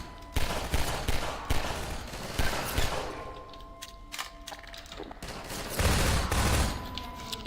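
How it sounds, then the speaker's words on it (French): Pistol fire in the video game Half-Life 2, a run of sharp single shots with mechanical clicks and clatter mixed among other game sounds, moderately loud. "je vais beaucoup utiliser le pistolet, comme je vous l'ai dit, il est très précis"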